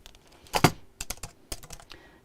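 Quick bursts of keystrokes on a computer keyboard during a live sewing stream, a few clustered clicks and taps in short irregular runs, close and clear with no talk over them.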